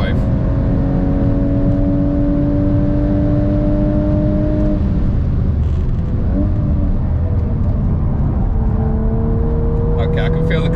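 A VW Golf R MK8 with its driver systems switched off, pulling hard at full throttle, a loud steady engine drone rising in pitch through the gears with brief dips at each shift, heard from inside the cabin.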